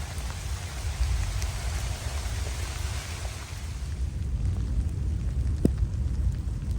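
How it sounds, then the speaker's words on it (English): Steady rain falls after a storm on the Appalachian Trail, a continuous moderate hiss of drops with low rumbling texture and no voices. "Still raining a bit, but not hard."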